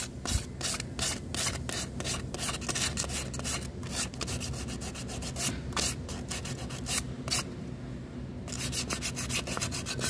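Brisk sandpaper rubbing on a Yamaha Aerox scooter's CVT clutch lining in quick repeated strokes, a gritty rasping rhythm up close that pauses briefly before resuming.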